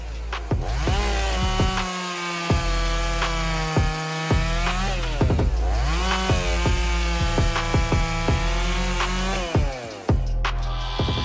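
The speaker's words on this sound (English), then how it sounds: "A modern saw combined with his good technique makes this job a breeze." A modern chainsaw cuts through big wood, its loud, steady engine whine rising and dipping in pitch as the blade bites in and eases off, repeating over several passes with no talking.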